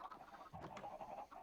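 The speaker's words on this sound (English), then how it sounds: "you guys may notice I built a second chicken farm, which is why there are so much chicken noises" Chickens on a Minecraft chicken farm cluck in a quick, overlapping chorus of short bursts, faint but continuous, with no voices.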